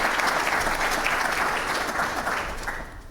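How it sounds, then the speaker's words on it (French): An audience at an entrepreneurship event bursts into steady applause, many hands clapping densely before gradually thinning toward the end. "Applaudissements pour Monsieur Savadogo Maxime."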